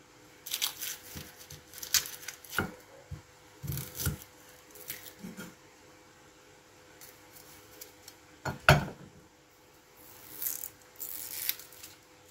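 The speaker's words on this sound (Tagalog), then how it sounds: "hiwain natin yung ating sibuyas" Knife cutting onions on a board for paksiw, a scattered series of crisp near slicing and chopping clicks at an uneven pace, with no talk.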